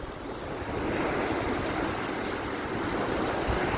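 Surf washing onto an Adriatic Sea beach at Pescara, a continuous broad rush of waves with some wind across the microphone, steady and fairly close, no voices.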